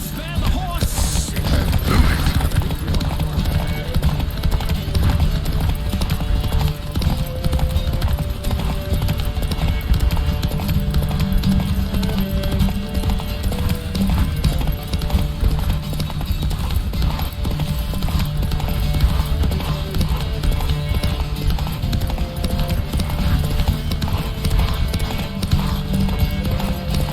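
Rapid galloping hoofbeats during a horse race in the video game The Witcher 3 pound continuously and loudly, with a creaking mechanical rumble and a music-like backdrop throughout.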